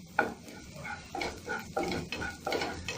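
Ginger-garlic paste frying with onions in a pan with a soft sizzle, broken by scraping stirs of a spoon about every half second, close by.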